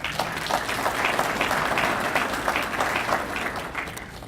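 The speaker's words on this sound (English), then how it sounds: "A round of applause for our friend Diana." An audience at a police chief's swearing-in ceremony claps warmly for a guest, a sustained patter of many hands at moderate volume that tapers slightly toward the end.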